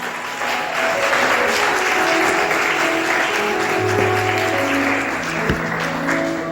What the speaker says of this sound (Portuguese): Vale até uma salva de palmas